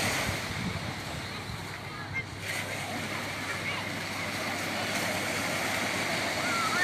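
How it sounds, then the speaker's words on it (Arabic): Sea waves wash and splash at Rumaila beach under a steady rush of wind buffeting the microphone, a continuous broad roar close by throughout. "صوت البحر والهواء متعة"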